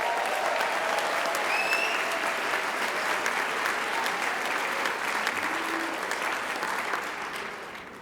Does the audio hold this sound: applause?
yes